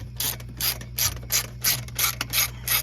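A 1/4 inch ratchet turning a bolt on the intake manifold of an Audi 5.2L V10 engine: eight quick, evenly spaced bursts of sharp clicking, close and loud, with no talking.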